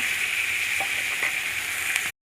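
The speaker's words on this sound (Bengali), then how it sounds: "ওই তেলের মধ্যে দিয়ে দেব 2 চার পেঁয়াজ কুচি।" Chopped onions dropped into hot oil just used for frying fish give a steady, bright sizzle that stays even and then cuts off abruptly.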